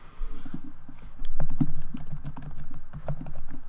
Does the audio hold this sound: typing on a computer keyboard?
yes